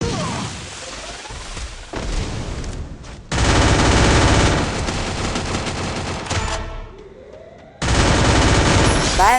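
Rapid automatic gunfire and bursts from the mobile battle royale game Free Fire, loud sustained volleys with short gaps and booming impacts, no talking.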